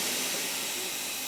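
A cordless air duster and vacuum combo blows a steady, loud, hissing rush of air, up close and unbroken with no talking.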